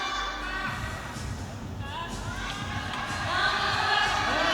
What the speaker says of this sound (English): Japanese crowd getting right behind this.